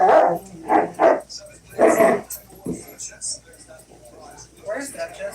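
A dog in her kennel lets out several loud, close, drawn-out howling cries in uneven bursts, with quieter whimpers between and another howl at the end.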